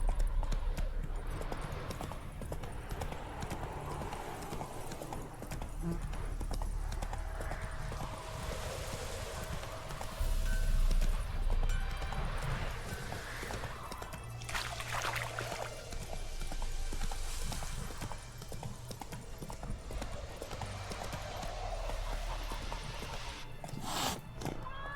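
Horse hooves clip-clop at a gallop in The Witcher 3 video game, a rhythmic run with an occasional whinny over faint game ambience and background noise, with no clear talk.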